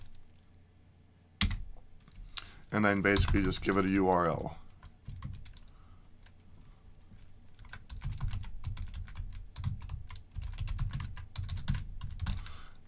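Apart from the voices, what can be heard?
typing on a computer keyboard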